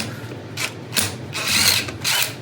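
A 17 mm socket spun onto a car lug nut, zipping off and back on in a few quick bursts of ratcheting, rubbing metal clicks, close and fairly quiet.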